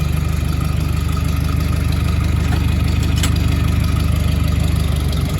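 John Deere 3010 tractor engine running while the tractor is driven, a loud steady low rhythmic diesel chug close by, unbroken and without voices.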